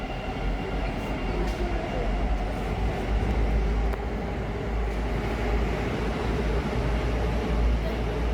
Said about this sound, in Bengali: ওই যে ছেড়ে দিল ট্রেনটা।